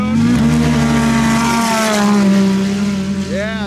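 Stage 6 Polaris Pro XP side-by-sides tuned past 300 horsepower roar hard down a drag strip, loud close engines holding high revs as the pitch climbs, with a rising whine at the end.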